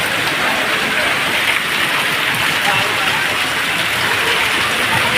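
Heavy monsoon rain pours down steadily over Tapi village, a dense, loud, unbroken hiss of water striking surfaces throughout, with no break in the downpour.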